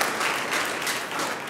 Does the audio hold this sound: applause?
yes